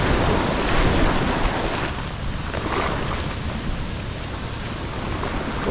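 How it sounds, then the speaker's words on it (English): Huge ocean surf at the Wedge breaking and roaring close by, a dense, loud wash of crashing water and wind buffeting the microphone that swells early and then keeps rumbling steadily. "Oh, huge wave behind me right now."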